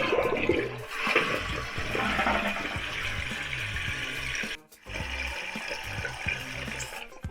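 A toilet flushes after its leaky fill valve was replaced, a loud, steady rush of draining and refilling water with a brief dip partway through, and no voices.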